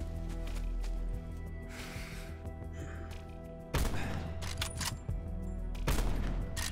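Gunfire from a sniper rifle in a Blackout battle-royale match in Black Ops 4, sharp loud shots cutting through steady game background noise, with a couple of distinct blasts near the middle and end.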